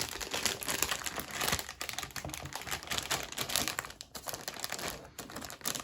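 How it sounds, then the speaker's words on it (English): Plastic and cardboard packaging around gaming PC parts being unwrapped, with close, continuous crinkling and rustling and brief tearing sounds throughout. "Finally gonna be unwrapping this."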